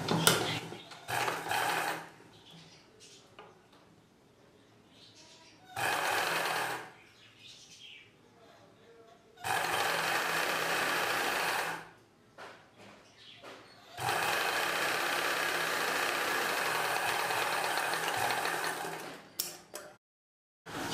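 A sewing machine stitches a shaped belt onto a cross-cut blouse piece in four separate bursts of steady whirring hum, the later runs longer, with quiet fabric handling between them.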